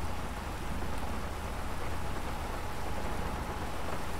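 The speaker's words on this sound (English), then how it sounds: "Oh, it's raining out." Steady, dense rain pours continuously, a loud hiss of drops hitting a surface with no other sounds standing out.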